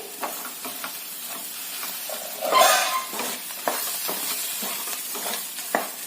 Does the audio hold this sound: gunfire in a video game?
no